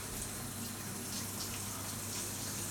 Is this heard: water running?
yes